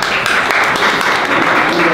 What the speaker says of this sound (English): Everybody clap it up for him.